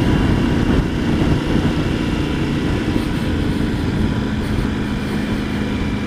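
A Triumph Tiger 900 GT Pro motorcycle engine runs at a steady low rumble, close and continuous with a constant hum and some wind, no talking over it.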